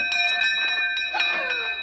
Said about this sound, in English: And then the doorbell rang.